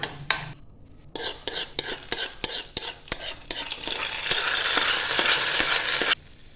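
Tempering of curry leaves being stirred into a Kerala chembin thandu and parippu (taro stem and dal) curry in a pot: repeated close scrapes and clinks of a spoon, then a steady sizzle that stops abruptly.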